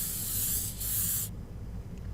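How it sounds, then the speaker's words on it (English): Cooking spray hisses onto a pan in two close, steady bursts separated by a brief dip, then cuts off, leaving quiet room tone. "We're going to spray it first with a non-spray."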